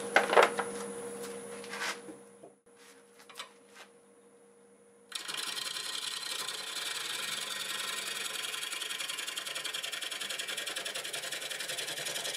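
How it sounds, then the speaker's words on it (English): A wood lathe turns a piece of black oak at about 680 RPM while a 5/8 bowl gouge works it: early intermittent scraping and clicks, a near-silent pause, then a steady, even hiss of cutting that continues to the end. "I'll start with a 5/8 bowl gouge and just clean it back up, and we'll go from there"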